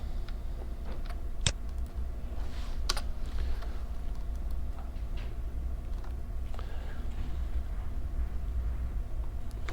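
Computer keyboard typing while a key shortcut is pressed, with scattered light clicks over a steady low hum, close and fairly quiet.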